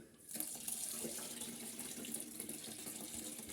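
Homemade plum wine liquid with dissolved sugar pours into a bucket, a quiet continuous splashing stream heard close with no talking.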